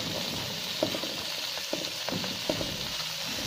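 Garlic powder and vegetables such as capsicum, carrot and cabbage sizzle in hot oil for Singaporean rice. A steady close frying hiss is broken by several sharp spatula strokes against the pan.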